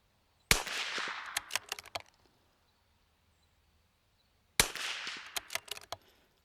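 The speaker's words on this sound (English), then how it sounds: "I'm just going to shoot kind of just a check up here" Two sharp rifle shots fired at a target, each a loud crack followed by a quick scatter of echoes, separated by a few seconds of silence.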